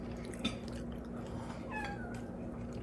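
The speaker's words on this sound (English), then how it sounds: "That is a cat being demanding" A demanding cat meows a few times in a quiet kitchen, two short rising cries close by against low background hum, with no talking.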